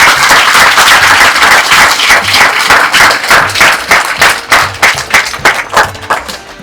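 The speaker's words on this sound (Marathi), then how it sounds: "त्यामुळे या शाळेसाठी जोरदार टाळ्या होऊन जाऊ." Audience applauding a school at a gathering, a dense burst of clapping that starts loud and steady, then thins into more distinct, separate claps as it fades over several seconds.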